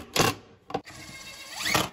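A drill drives pocket screws to fix a wooden skirt to a coffee table top, with short close whirring bursts, the last one a longer rising spin.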